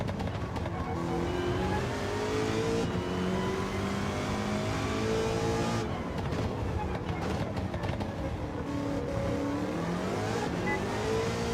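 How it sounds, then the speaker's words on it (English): Rear tyres of an American muscle car screech in a racing video game, a loud sustained squeal over a continuous roaring engine, with people talking over it. "Rear tires screaming."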